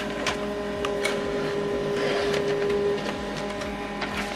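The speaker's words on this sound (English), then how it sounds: "So now this document is going to print out." An HP LaserJet printer runs through a print job, a steady mechanical whir with rhythmic clicks and feed ticks, close and fairly loud, with no voices.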